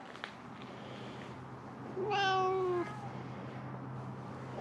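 A feral cat at a Mare Island Naval Shipyard feeding spot in Vallejo, California gives one clear, drawn-out meow mid-clip over a steady low outdoor hum, moderately close, with no talking during it.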